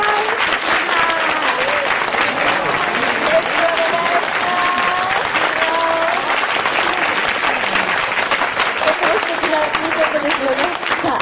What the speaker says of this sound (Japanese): どうぞ皆さん大きな拍手でお迎えくださいませ